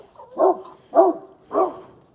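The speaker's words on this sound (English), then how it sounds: "That's a friendly dog." A friendly dog barks three times in an even rhythm, each bark short and moderately loud, close by, with no talk over it.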